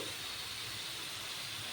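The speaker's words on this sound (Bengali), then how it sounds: "মশলাগুলোর সাথে মিষ্টি কোমর আলুকে ভালো করে ভেজে নেবো তো ভাজা হচ্ছে" Spices with sweet pumpkin and potato frying in a pan give off a steady, close sizzling hiss that holds evenly throughout, with no talking over it.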